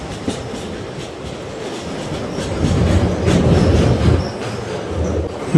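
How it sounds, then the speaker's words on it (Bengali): A local train in Assam crosses the long Pancharatna bridge, a steady rolling rumble with wheel clatter and faint squeal that swells and grows louder midway, with no voices. "ট্রেন দেখুন ঢুকছে পঞ্চরত্ন ব্রিজে।"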